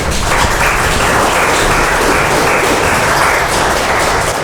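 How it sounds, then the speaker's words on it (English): Audience at a tech talk event applauds loudly and steadily, dense close clapping that fills the whole stretch without pause. "Give a warm applause to Roy, everyone."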